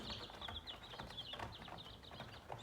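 Chickens cluck and chirp in a dense, continuous chorus while eating feed, a close, busy flock of soft overlapping calls with scattered pecking noises and no voices.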